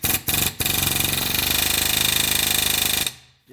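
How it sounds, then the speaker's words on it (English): An air hammer driving a chisel punch against a ball joint on a 2011 Subaru Legacy: two quick blips, then a loud, sustained rapid hammering that stops abruptly, close up. "you're going to take a chisel punch like this on an air hammer"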